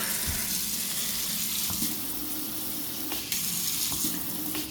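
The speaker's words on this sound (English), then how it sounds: "Beautiful faucet here." Water runs steadily from a brand-new kitchen faucet into a freshly installed sink, a continuous close hiss and splash with small clinks over it.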